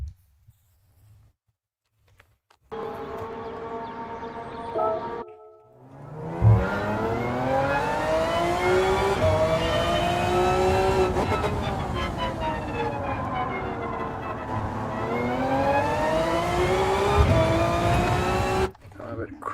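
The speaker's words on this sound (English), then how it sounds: "the engine sounds are just on another level" A race car engine in Gran Turismo 7 revs hard and climbs through the gears, loud and close, with a brief quieter idle before it roars up and sustains.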